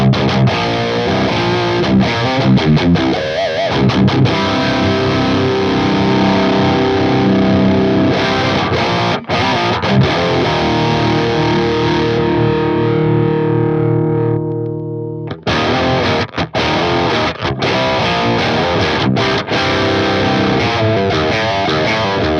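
A distorted electric guitar runs through a Fractal AX8 with the input drive raised. It plays dense, saturated chords and riffs, lets one chord sustain and fade into a brief gap, then drives back in loudly with no talking.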